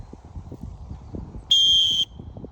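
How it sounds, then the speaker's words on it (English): A single sharp whistle blast at an archery range, signalling archers to shoot, sounds for about half a second, standing out over a soft background murmur of talk. "which means fire, one whistle."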